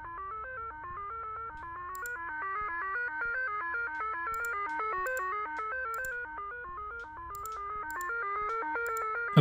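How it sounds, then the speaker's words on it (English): In the video game Signalis, a steady electronic radio signal warbles in a repeating, ringtone-like melodic pattern, faint and continuous, with small clicking blips above it. "We're going to look for a signal like that."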